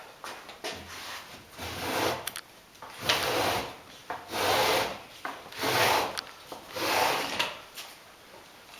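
Edge trimmers rasp along the edge banding on a wooden drawer box in repeated scraping strokes, each a second or so long with short gaps between, steady and close with no talking.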